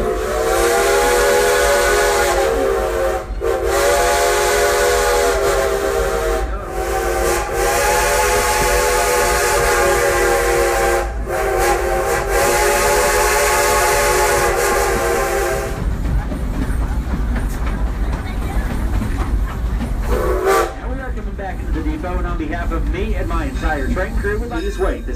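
Frisco Silver Dollar Line #76 steam train departing, its loud whistle blowing in long sustained blasts for about fifteen seconds, then the rolling rumble and clatter of the cars, with a short final whistle toot near the end.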